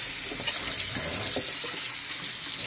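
Tap water pours into a deep kitchen-style sink to refill a water bottle, a steady close splashing rush with small gurgling variations that runs throughout the few seconds, with no talking.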